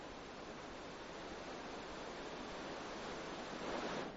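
Tomara waterfall, milky water dropping 20–30 metres, gives a steady broadband roar, a constant rushing wash that stays even and unbroken, heard alone without voices.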